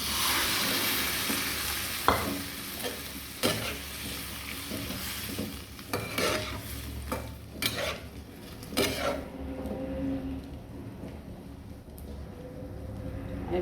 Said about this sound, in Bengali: এখন চিকেন স্টকটা দিয়ে দেব।